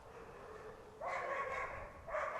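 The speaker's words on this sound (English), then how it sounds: "We have a dog fight." Dogs bark and snarl in a scuffle somewhere nearby, two bursts of harsh yapping over steady outdoor background noise.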